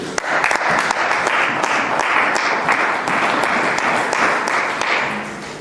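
Applause from a church congregation during a French-language evangelical sermon, a dense steady roar of many hands clapping throughout, loud and sustained without pause.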